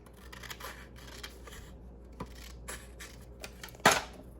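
Scissors trimming paper for a decorated journal page, a few soft close snips and rustles, quiet overall, with one sharper louder cut near the end.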